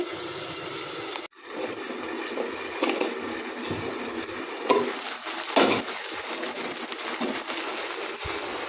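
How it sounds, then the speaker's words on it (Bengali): Fish frying in a pan before going into a curry with drumsticks, a continuous sizzle broken by a sharp knock and occasional stirring and utensil clinks, with no talking. "এই যে মাছ ভাজছি সাজনা দিয়া ঝোল রান্নার জন্যে।"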